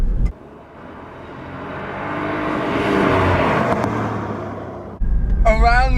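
A red Cadillac ATS-V twin turbo accelerating on canyon roads, its engine note climbing and swelling to a loud peak before a sudden cutoff, then a voice speaks over a nearby rumble.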